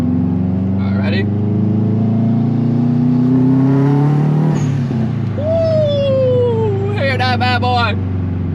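Engine of a newly bought drift car revving, a loud close drone that climbs and falls in pitch, with a sharp rising whine near the end and brief squeaky bursts on top.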